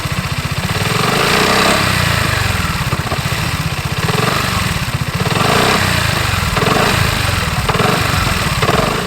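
A BMW C400GT single-cylinder scooter idles through its stock exhaust, a steady low, throbbing pulse that holds loud and close without a break.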